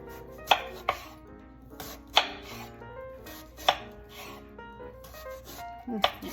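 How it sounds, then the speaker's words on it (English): Turnip (jicama) sliced with a knife on a cutting board, a handful of sharp, evenly spaced chops about every second and a half, close and distinct over a quiet room. "Next, we'll slice our turnip"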